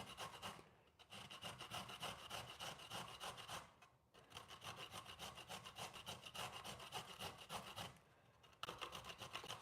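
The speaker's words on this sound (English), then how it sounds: "I always think hand grating makes a nicer grate" Carrots are grated by hand for carrot wraps, a steady rasping scrape in quick repeated strokes that pauses briefly twice, close and fairly loud with no talking.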